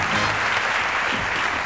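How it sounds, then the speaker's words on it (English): A studio audience at a 1988 game show breaks into a dense, steady round of applause, a continuous wash of many hands clapping close together for the whole stretch. "And a huge round of applause for me!"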